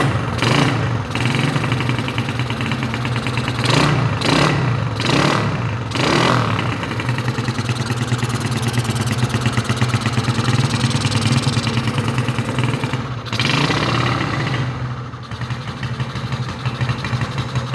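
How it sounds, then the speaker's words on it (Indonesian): A cold motorcycle engine idles unevenly and loudly up close, its carburetor sucking air in a steady throb broken by several sharp surges and dips. "Suara-suara sedotan karburator ya."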